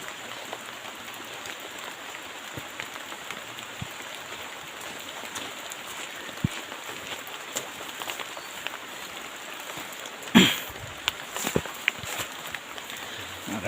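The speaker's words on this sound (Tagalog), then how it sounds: "Ulan talaga." Steady rain patters on a surface with a soft continuous hiss, a few louder drops and knocks standing out near the end.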